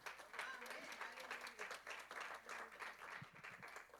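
Church congregation clapping in rhythm at a midweek service, a quiet, steady patter of many hands with talk mixed in.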